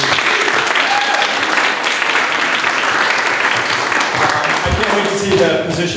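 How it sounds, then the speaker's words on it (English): Sustained audience applause at a political gathering in Koreatown, Los Angeles, dense and loud throughout, with voices in the crowd mixed in near the end. "can we get another hand, a round of applause for me?"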